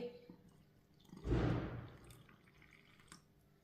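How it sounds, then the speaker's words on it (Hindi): Water is poured into gram flour batter with a little salt and carom seeds, making a brief soft splashing pour that swells and then trickles off, faint and close. "पानी डाल लेंगे।"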